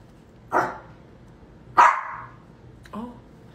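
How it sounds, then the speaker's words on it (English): A dog barks three separate times, sharp and fairly close, with pauses between each bark against a quiet indoor background; the last bark is softer and shorter. "Stop barking."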